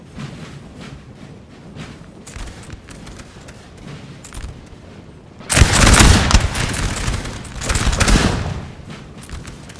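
Massed musket volleys in the Napoleon Total War multiplayer battle game, scattered distant crackling shots that swell midway into a loud, rolling fusillade of overlapping gunfire, then continue in ragged bursts.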